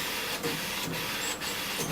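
A steady hissing whir comes from an inkjet printer running a white ink alignment print, its carriage making regular back-and-forth passes roughly every half second, fairly close with no talk.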